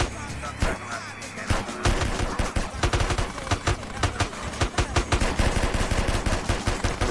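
Dense gunfire in GTA San Andreas Cops and Robbers play: a brief lull, then sustained rapid automatic bursts and overlapping shots, loud and close throughout.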